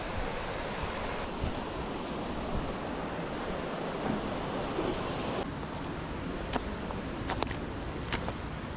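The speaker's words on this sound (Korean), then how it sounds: "세신진 계곡의 물소리가 마음을 씻어내는 맑은 물소리입니다" Steady broadband rush of a mountain valley stream at Sesimjeong on Songnisan, continuous and fairly close, with a few brief sharp splashes or clicks near the end.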